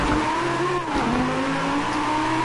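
A car engine in the racing video game Forza Horizon 4 revs and climbs in pitch, dips briefly around the middle and then pulls up again, loud and close with no voices.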